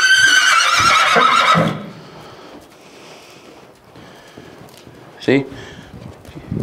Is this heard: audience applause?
no